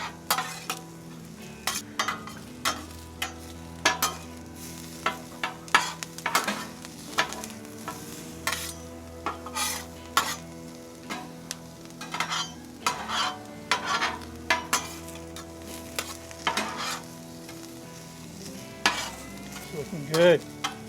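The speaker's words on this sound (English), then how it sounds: "Go ahead and bring those potatoes to the party here." Onions and potatoes fry on a Wildfire griddle, a soft sizzle under frequent sharp metal spatula scrapes and taps across the flat top, with faint background hum.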